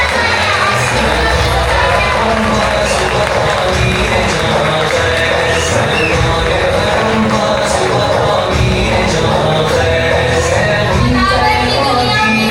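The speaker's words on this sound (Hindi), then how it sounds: "जोरदार तालियां" Loud, continuous crowd noise at a teachers' prize distribution and achievers' meetup, clapping and cheering blended into a dense, roaring wash that stays at full strength for the whole stretch.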